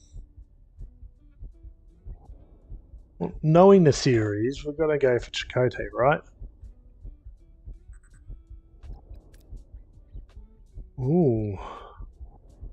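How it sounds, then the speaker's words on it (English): A steady heartbeat sound effect from the Star Trek Voyager: Across the Unknown game demo thumps low and regularly throughout, partly under a voice talking and reacting. "the heartbeat"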